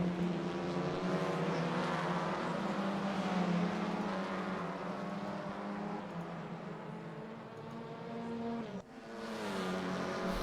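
WTCR touring race cars in the RaceRoom racing game at Laguna Seca qualifying, a steady droning engine note with shifting revs and a brief dip near the end, heard without talk.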